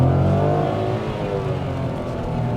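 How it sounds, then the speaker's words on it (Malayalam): A Nissan Magnite AMT accelerating at full throttle from a standstill, heard from inside the cabin as a loud, continuous engine drone that climbs steadily in pitch over a few seconds. "ഞാൻ ഇവിടുന്ന് ഫുൾ ആക്സലറേറ്റർ കൊടുത്തേക്കാണ്."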